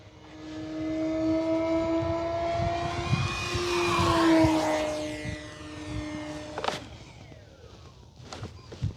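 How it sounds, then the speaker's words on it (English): An Arrows Husky Ultimate 1.8 m RC plane comes in to land with full flaps. Its propeller whine rises and then falls in pitch as it passes close by, and the engine cuts off near the end. "Coming in for landing, full landing flaps."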